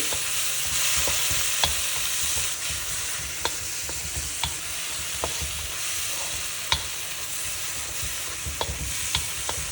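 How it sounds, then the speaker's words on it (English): Steady stirring of paneer bhurji gravy with red chili paste in a pan, a soft continuous sizzle under scattered spoon scrapes and light taps against the pan, close and moderately quiet with no talking. "Mix it well."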